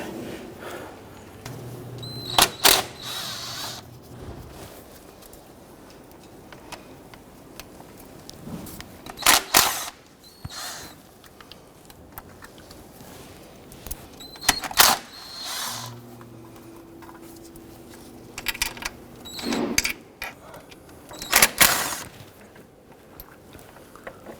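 A 1/4-inch ratchet with extension and socket loosens valve cover bolts on a 1997-2006 Jeep Wrangler, with short close bursts of rapid mechanical clicking repeating every few seconds over quiet garage background.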